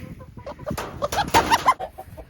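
Chickens cluck and squawk in a short burst of close, uneven calls while one hen is handled and placed into a coop with the rest of a backyard flock.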